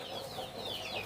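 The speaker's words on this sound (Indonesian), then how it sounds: "ternak-ternak yang saya miliki ya, yakni ini ternak ayam" Farmyard chickens, a mother hen with her chicks, cluck and peep steadily at close range with a little background noise, and no one talks over them.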